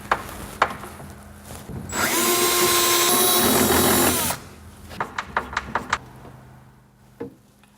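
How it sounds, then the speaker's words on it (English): A power drill drives a screw into a corner organiser for about two seconds, one loud steady whirring burst with sharp taps and clicks before and after it. "screw this in place"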